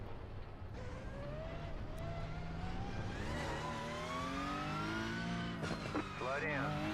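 Race car in the iRacing sim game lapping a track on cold tires, its engine droning and rising in pitch through gear changes, with a brief screech near the end, loud and continuous without talk.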